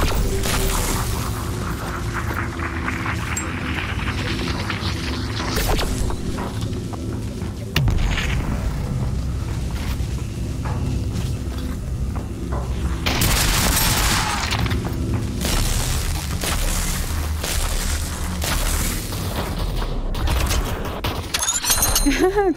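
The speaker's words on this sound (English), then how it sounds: "They're just shooting me, I'm gonna shoot." Gunfire in the video game Population: One crackles in repeated bursts and sharp bangs over a steady rumbling game backdrop, with players talking over the shots.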